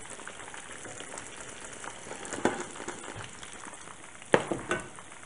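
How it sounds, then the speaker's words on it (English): Meatballs simmer and sizzle in tomato pomodoro sauce in a pan, a steady close crackling bubble with a couple of sharper spits and stirs near the end, no voices. "Add the meatballs to the pomodoro to finish off the cooking."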